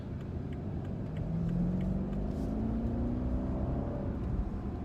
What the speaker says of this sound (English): Car picks up very nicely.